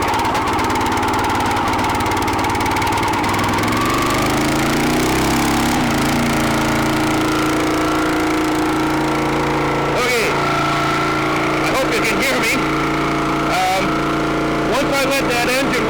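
A small engine runs steadily in frigid weather as it warms up, droning close and loud with a rough, knocking character and a few irregular sputters near the end.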